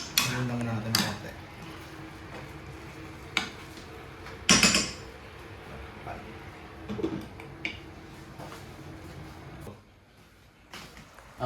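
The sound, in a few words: stirring chicken adobo in a cooking pot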